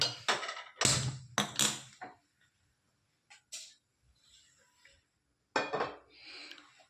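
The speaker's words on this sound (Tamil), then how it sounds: "ஒரு கடாய் ஒன்று ஏற்றிருக்கேன்" A kadai set down on a stove for making temple-style puliyodharai: a few sharp metallic clanks and scrapes close up, grouped in bursts with quiet gaps between them.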